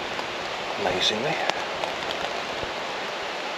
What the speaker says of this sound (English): As you can probably hear, it's raining.